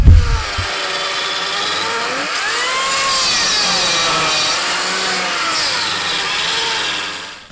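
A chainsaw cuts roundwood timber frame legs to length, a loud close engine running steadily and changing pitch as it works through the wood, and then stopping at the end.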